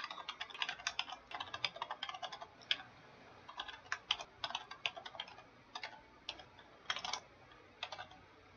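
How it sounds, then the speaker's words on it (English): Rapid, quiet keystrokes on a computer keyboard as a terminal command is typed, clicking in irregular bursts with brief pauses between them, close and alone. "We're going to type in sudo nano."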